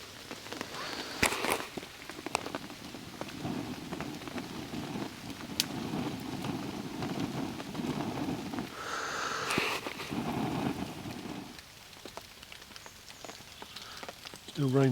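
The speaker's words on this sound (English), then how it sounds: "Still raining." Rain falls steadily on a tarp over a camp, a soft continuous patter with occasional louder drips and crinkles, and some rustling near the end.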